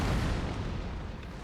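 Artillery cannon fire in the Napoleon: Total War video game, a heavy, booming blast with a rumbling tail that fades over a second and a half, loud and alone without voices.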